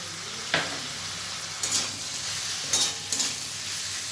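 Soaked chana dal being stirred in a hot pan for a papaya curry, a low steady sizzle broken by a few sharp scrapes of the spoon against the pan.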